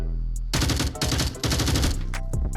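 Rapid gunfire from a VR shooting game played with a gun stock: a loud burst of bursts and repeated shots in quick succession after a brief quiet start, close and continuous.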